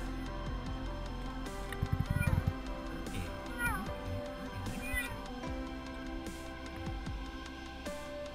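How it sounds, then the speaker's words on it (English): A sweet cat rescued from a tree meows repeatedly in short, varied cries, fairly close, with rustling handling noise and a brief burst of clatter partway through. "She's a really sweet cat."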